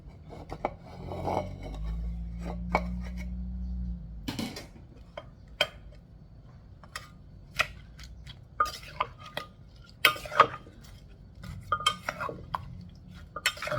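Coconut shoot and carrot salad being tossed in a mortar for a spicy Thai coconut-shoot pok pok salad with crab, fermented fish and naem: a low rubbing scrape at first, then scattered light knocks and clicks of utensil on mortar, close and alone.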